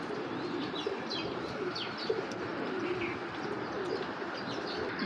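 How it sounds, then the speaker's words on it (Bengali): Medium-sized pigeons coo repeatedly over a dense, noisy background with scattered chirps and occasional soft wing flutters, the low cooing calls recurring every second or so at moderate distance. "মিডিয়াম সাইজের কবুতর"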